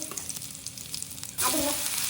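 Cumin seeds, curry leaves and asafoetida drop into hot oil for a potato dish. After some quiet handling, a loud, close sizzle bursts in and keeps crackling steadily to the end.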